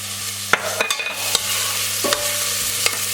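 Diced onion frying in a pot heating with ghee for a chickpea curry, a light sizzle broken by several sharp stirring clicks against the pot over a low steady hum, close and clear, without speech.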